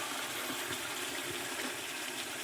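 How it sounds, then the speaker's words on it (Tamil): Broth of country chicken curry pours steadily into a pan, a continuous broadband splashing gush with no voices. "இந்த நாட்டுக்கோழி குழம்பு கொஞ்சமாக அந்த தண்ணியாக எடுத்து இதில் ஊற்றிடுவோம்"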